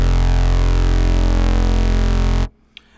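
A harsh, buzzing feedback scream bass patch from the Helm synthesizer, with a screaming, distorted edge, drones steadily at full volume, then cuts off abruptly into near silence.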